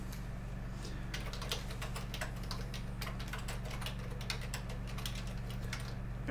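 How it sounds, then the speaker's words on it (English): Rapid, loud clacking on a computer keyboard during a tabletop game night, a dense irregular run of close key strikes that goes on steadily for several seconds with no talk. "Then, hear my loud typing over here."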